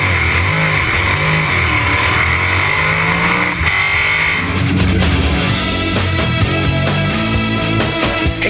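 Loud race cars at a historic meeting at Sandown, muscle cars and Formula 5000s among them, roar and rev, with one machine's note swelling and dropping before others snarl past up close.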